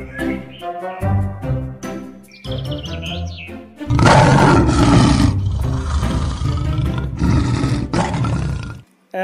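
A loud roar in a children's alphabet song, rising into a long, rough, sustained bellow that fills several seconds after a stretch of bright melodic tones and chirps, with the music playing throughout.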